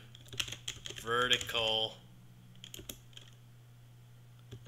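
A few scattered keystrokes on a computer keyboard, faint and close, after a short spoken word, with a low steady hum underneath.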